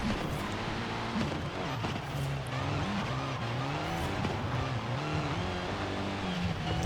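A race car in Forza Horizon 5 driving a hillclimb track on a changing road surface, its engine droning steadily and rising and falling with gear shifts, close and continuous with no talk.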